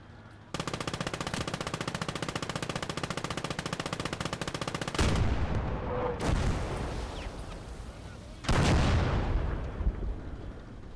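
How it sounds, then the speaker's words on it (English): Rapid machine-gun fire rattles in a steady burst, then heavy artillery blasts and explosions boom loudly in the World War II video game Call to Arms: Gates of Hell. "They've got another artillery piece somewhere."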